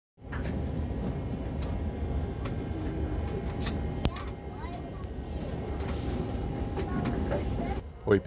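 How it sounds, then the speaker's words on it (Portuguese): Inside car 4 of the Vale Vitória-Minas passenger train, a steady low rumble builds as it pulls out and carries on throughout, with faint rattles and clicks above it and a brief knock near the end. "que o trem está saindo"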